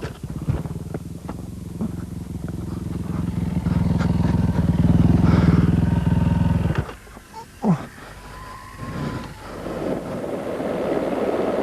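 Czech rider Martin Maček's rally motorcycle on a Dakar 2007 stage, its engine droning loud and steady for several seconds, then dropping away with gear changes and uneven revving as the bike rattles over rough terrain, with wind rushing past.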